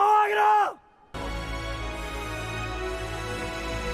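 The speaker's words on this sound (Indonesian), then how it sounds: "Lee Sin berteriak memberikan kobaran api pada semua pasukan." A general's loud, drawn-out battle cry to rouse his troops in a historical war film, a strained bellowing voice that breaks off into a short silence before a dense, sustained wall of orchestral and crowd sound.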